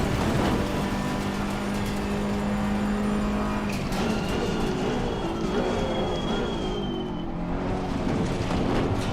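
Race car engine in Assetto Corsa Competizione, a Challenger Pack car on track, droning loudly and steadily throughout with shifting pitch as it revs and lifts.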